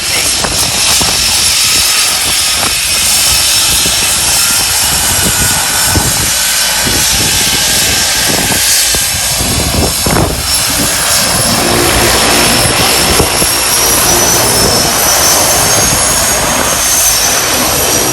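An airplane roars continuously and loudly from close by after touching down on a very short runway, its engine and propeller noise filling the whole stretch with no break.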